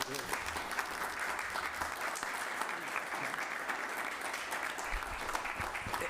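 A city council meeting audience gives a dense, steady round of applause for a champion girls' team, with the clapping filling the room evenly from start to finish and no other sound standing out.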